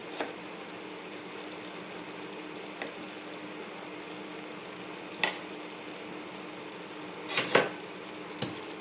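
Spice powders such as coriander and chili frying in oil for Karnataka-style tomato bath, a steady soft sizzle with occasional spoon taps and scrapes against the pan, close and without voices.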